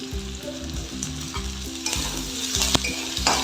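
Vegetables with cumin seeds, chopped tomato and ginger paste fry in a pan, a loud close sizzle with regular stirring scrapes pulsing through it, no voices.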